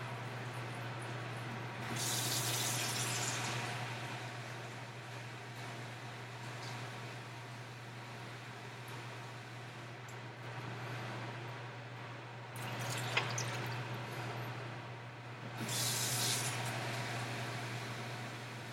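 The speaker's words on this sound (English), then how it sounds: "just fill it with water and then pour it into a pot" Tap water rushes into a large 22-quart cooking pot in short, hissing bursts, loud at first and again near the end. A low, steady mechanical hum runs beneath it, with no voices.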